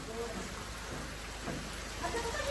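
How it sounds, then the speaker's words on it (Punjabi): Steady rain falls during a downpour in Punjab, a dense, even hiss of drops holding at moderate loudness throughout, with faint voices murmuring in the background. "ਦੇਖੋ ਗਾਈਸ ਮੈਨੂੰ ਲੱਗਦਾ ਅੱਜ ਸਾਰੇ ਪੰਜਾਬ ਦੇ ਵਿੱਚ ਮੀਂਹ ਆ"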